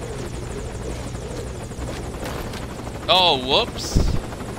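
A helicopter in the video game Metal Gear Solid thrums continuously at a steady, loud level, with a person speaking briefly over it and short game effect sounds near the end.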